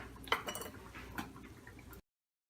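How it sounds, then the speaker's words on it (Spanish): Water goes into a cooking pot on a stove with clinks of metal cookware and a brief splashing pour, a close, moderately quiet clatter lasting about two seconds before cutting to silence. "Añade 2 tazas de agua y permanece hervir."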